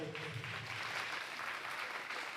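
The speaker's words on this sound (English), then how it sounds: "let's give another round of applause for the graduate." A graduation audience applauds a graduate with a steady, continuous wash of many hands clapping, dense and even, heard from a distance at low volume, with faint voices underneath.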